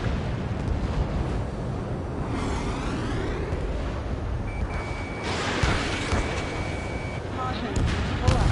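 In the Ace Combat 7 flight game, a missile launch roars alongside explosion booms over steady jet engine noise, and a rising whoosh sweeps through the middle. Radio voices are heard talking throughout.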